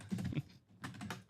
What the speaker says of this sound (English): I suck at typing.